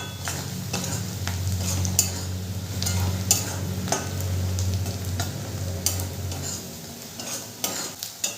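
Kashmiri chili powder fries in oil with fried onions, giving a close sizzle under busy stirring, with repeated scrapes and metallic clicks of a spoon against the pan. There is no talking.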